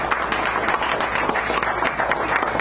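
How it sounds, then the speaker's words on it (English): Audience applause at a café poetry hour in San Francisco, a steady, dense patter of many hands clapping throughout, fairly loud and close with no pauses. "Give her another round of applause."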